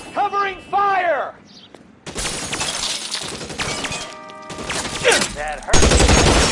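Dense gunfire crackles through a shootout in L.A. Noire, with heavy overlapping shots and breaking, shattering impacts that continue for several seconds, while voices talk over parts of the exchange.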